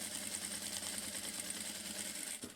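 A sewing machine runs steadily, stitching pieces of fabric for a placemat with a fast, even whirring chatter close by, pausing briefly near the end.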